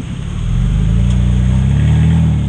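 A Toyota Fortuner or Mitsubishi Pajero Sport engine revs steadily while reversing off-road, a loud, continuous mid-pitched drone that swells in the first half-second and then holds, with no talk over it.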